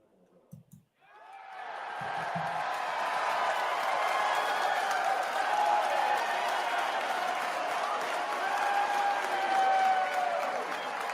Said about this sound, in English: What kind of applause is this?